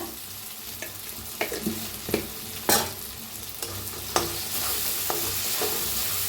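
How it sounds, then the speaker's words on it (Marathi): Stuffed green chillies fry and roast in a hot pan with turmeric, giving a steady close sizzle broken by several sharp scraping stirs of a spatula, with no voices. "आता छान भाजायला लागले."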